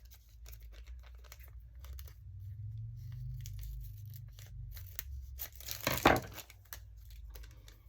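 Scissors trimming die-cut packaging for ephemera crafting, a series of soft close snips and paper rustles over a low background hum, building to a louder crunching cut near the end.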